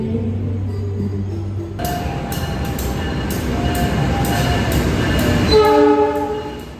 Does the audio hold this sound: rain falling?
no